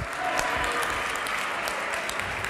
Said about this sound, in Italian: Applausi a scena aperta per Marina Valente